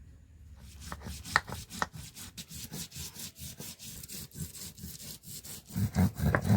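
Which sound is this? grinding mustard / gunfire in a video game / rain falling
grinding mustard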